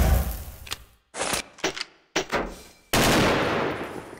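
AK rifle fire in the shooter game XSHOT comes in several loud, rapid automatic bursts separated by short silent gaps, with one longer sustained burst at the end.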